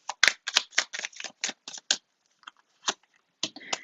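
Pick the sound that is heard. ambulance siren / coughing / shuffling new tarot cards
shuffling new tarot cards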